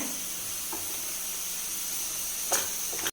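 Steam hisses steadily from a pressure cooker holding beef for pickle, a soft continuous rush with a brief louder puff near the end before it cuts off.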